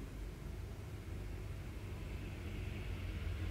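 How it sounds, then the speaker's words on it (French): A bus passes along a London street at night, a steady broad low rumble of engine and road noise that swells slightly toward the end, with no talking. "Je sais pas si vous entendez, là il y a un bus qui passe."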